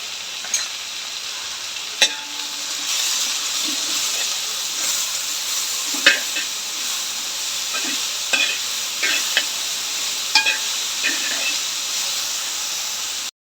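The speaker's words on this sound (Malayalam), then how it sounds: "കുറച്ച് ഉപ്പിട്ടിട്ടേ ഒന്ന് വഴറ്റാം." Garlic and curry leaves with salt sauté in hot oil in a home kitchen, a steady sizzle and hiss throughout, broken by occasional sharp clicks of a spoon stirring against the pan.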